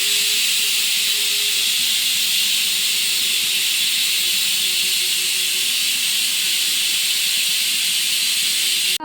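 Steam hisses steadily from a pressure cooker cooking country chicken curry, a loud continuous close-up hiss that holds for the whole stretch without pause.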